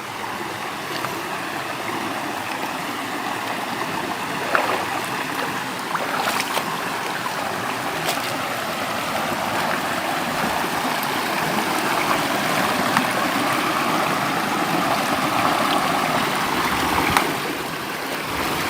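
A deep, clear river flowing over large rocks, its water rushing in a steady, continuous wash at close range with no one talking.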